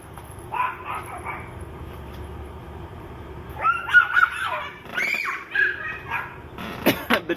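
A pet dog yips and barks in excitable bursts at a backyard barbecue, with a toddler nearby; the barks come in short clusters, fairly close and moderately loud over a low background hum.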